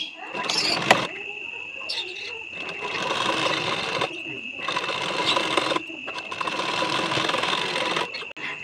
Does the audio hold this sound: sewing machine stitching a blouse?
yes